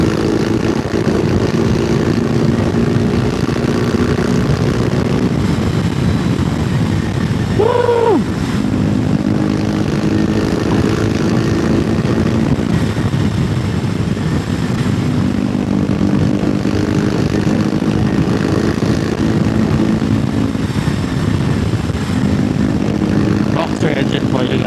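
A BMW R18 Roctane motorcycle engine drones steadily on a mountain ride, a continuous loud low rumble with wind noise throughout and a brief higher whine partway through.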